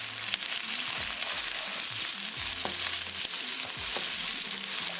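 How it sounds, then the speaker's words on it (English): Onion frying in a pan after garlic, a steady close sizzle with scraping and stirring clicks throughout, no talking. "And we're going to cook onion for only 2 minutes."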